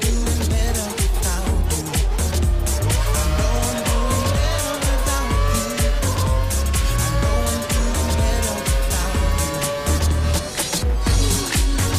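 A race car in a racing video game roars loudly and steadily, with tire squeal and skidding layered over the engine throughout.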